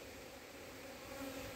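Agitated honeybees hum steadily around an opened hive, a faint, continuous buzzing drone with no talk over it.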